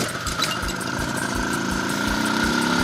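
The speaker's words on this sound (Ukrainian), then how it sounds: "Там мотор від жиги стоїть." An IZh Planeta 5 motorcycle fitted with a Zhiguli car engine runs steadily close by, a rough, even idle with a low pulsing throb and no voices.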